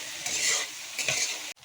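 Giant freshwater prawns sizzle in a hot pan with salt and turmeric, a bright crackling fry with stirring bursts, ending in a sharp clatter.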